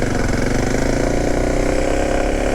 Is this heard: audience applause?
no